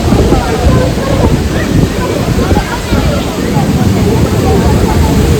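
A waterfall behind a temple roars loudly and steadily, a continuous wash of rushing water with no pauses.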